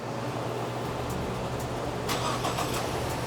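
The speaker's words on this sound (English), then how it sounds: "In a few seconds, the engine will start." A 2015–2019 Lincoln MKC fires up by remote start, a steady background hum giving way to a brief crank and catch into a smooth idle heard from nearby, with no one speaking.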